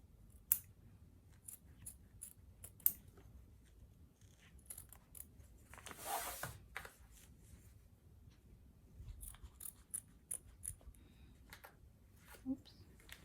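Scissors snip excess appliqué fabric away from an embroidery, in sparse, quiet, close cuts with one longer cut in the middle, and a few soft handling sounds.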